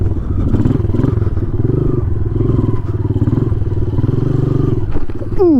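A motorcycle engine runs steadily close by for the whole stretch, rising and wavering as the rider pivots the bike through a tight turn, with a brief clatter near the end.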